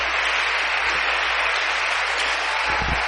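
Church audience applauding its volunteers and pastors, a sustained, moderately loud sheet of many hands clapping with a few heavier thumps near the end.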